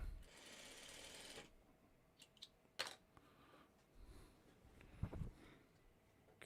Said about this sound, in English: let me just sew on this little piece of scrap here just so I can get it off